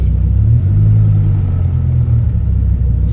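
A Dodge Viper idles with a deep, loud, steady engine rumble heard close up, alone and without talk.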